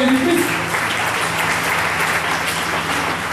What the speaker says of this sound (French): applaudissez fort pour le Seigneur Jésus-Christ.